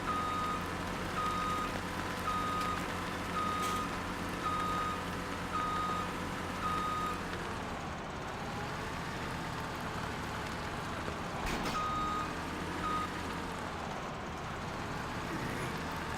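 A truck backs up in Farming Simulator 17 on the Lone Oak map, its reversing alarm beeping in a steady, evenly spaced series over a low engine drone, with rain pattering behind and no speech.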